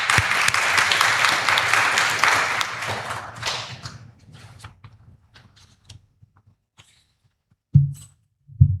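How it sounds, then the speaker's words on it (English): An audience at an academic talk applauds to welcome a professor, dense clapping for about four seconds that thins to scattered claps and fades into quiet, followed by short bumps. "So a big round of applause"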